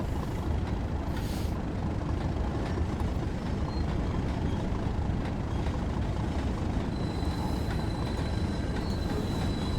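A Class 37 diesel locomotive hauling steel coil wagons in a train simulator game, a steady loud engine drone and rolling rumble throughout, with a faint high squeal appearing near the end.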